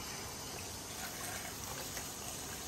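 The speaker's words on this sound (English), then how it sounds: "Let the water just keep running on that." Tap water runs steadily over a wet collodion photographic plate, a continuous even splashing rush that stays constant throughout with no voices.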